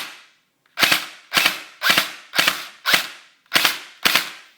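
AB M15 airsoft rifle with a MOSFET firing full auto in short bursts: seven sharp, evenly spaced cracking volleys, close and loud, separated by brief silences, with no speech.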